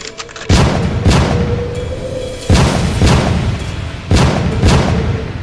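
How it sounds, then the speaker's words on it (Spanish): Three loud, sharp booming pistol blasts in a forest, spaced about two seconds apart, each with a long rumbling echo that fades before the next shot. "El estruendo del disparo retumbó en el bosque"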